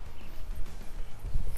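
Horse hooves clip-clop in a short, irregular series of low thuds as a rider swings up into the saddle, close by and moderately loud, with a heavier hoof strike near the end and no talk over it.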